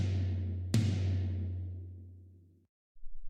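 A floor tom from a jazz drum kit rings out with a deep, sustained tone that slowly fades. A single sharp strike lands partway through the ring, followed by a brief silence and a faint low rumble.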